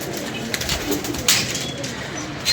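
Pigeons coo softly and repeatedly nearby, layered over a steady outdoor background hiss, with a couple of brief louder bursts.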